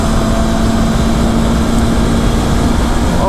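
Honda NX500 motorcycle engine on a highway, a loud steady drone with a constant tone and heavy wind rush throughout, no distinct gear-change break standing out.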